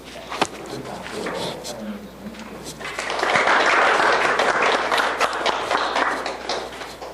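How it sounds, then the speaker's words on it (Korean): A church congregation claps loudly and steadily for a pastor. The applause builds to a full, sustained roar midway and stays close. A voice talks briefly at the start. "큰 박수로"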